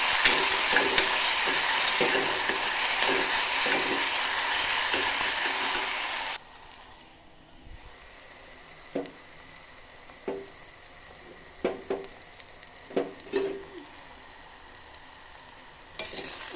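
Masala paste stirring and frying in a pan over a low flame for masala rice: steady loud sizzle for about six seconds, then a quieter pan with scattered scraping stirs and small bursts of spitting.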